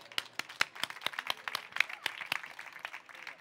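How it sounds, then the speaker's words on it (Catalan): Audience clapping at a healthy-cooking session in a hospital's community open-house event: a modest crowd of individually distinct claps, fairly close and uneven, with some chatter mixed in. "Doncs un aplaudiment pel Clínic."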